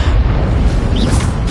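A Confringo blasting spell explodes in Hogwarts Legacy, a dense, sustained rumbling boom with crackling debris that fills the whole moment, loud and close with no voices over it.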